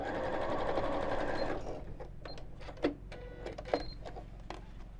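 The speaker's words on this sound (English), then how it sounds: "I'm going to move my needle right over to the left hand side and just sew very close to the top of the strap" A sewing machine stitches across the top of a bag strap with a close, busy mechanical whir for about a second and a half, then falls quiet apart from faint handling clicks and a couple of sharp taps.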